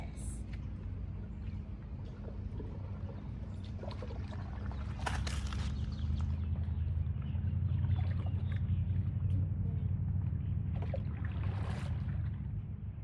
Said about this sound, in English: you need to paddle right and left evenly to go straight